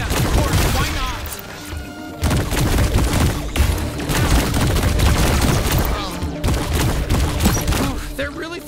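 Heavy gunfire rages in High on Life as a sniper joins the fight, a near-continuous barrage of loud close shots and impacts layered with chaotic game sound across the whole stretch.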